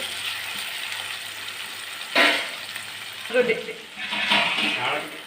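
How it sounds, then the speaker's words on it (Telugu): Curry leaves and coriander sizzling in hot oil in a pan for South Indian tomato bath, a steady close frying hiss with louder crackling bursts as the leaves are stirred. "కొంచెం కరివేపాకు వేసుకుందామండి అలాగే కొత్తిమీర కూడా కొద్దిగా వేసుకొని వేపుకుంటాం"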